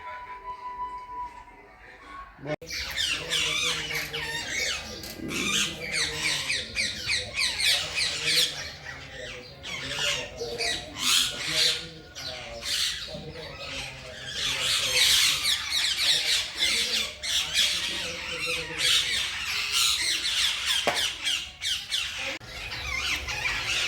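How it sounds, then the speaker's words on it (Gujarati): A flock of parrots squawks loudly and continuously, with many overlapping harsh calls and chatter throughout. "જો અહીંયા કેટલા બધા પોપટ આવી ગયા"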